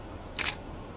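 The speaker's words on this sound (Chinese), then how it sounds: "他的快门已经摁下。" A single crisp camera shutter click, short and sharp, sounds alone against a quiet, hushed background as an audiobook sound effect.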